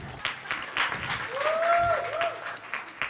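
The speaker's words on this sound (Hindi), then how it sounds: "तो इनको मिलती है आपकी ढेर सारी तालियां" A congregation at a Maundy Thursday church service gives a short burst of moderate applause, with a voice briefly audible over it.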